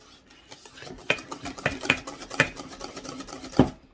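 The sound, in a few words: whisking sweet potato pie filling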